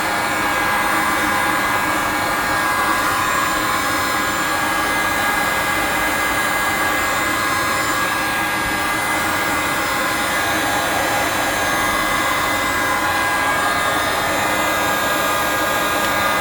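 A heat gun blows steadily over the glass of an iPad 2 to soften its adhesive, a loud, even roaring whoosh that holds without a break from start to end.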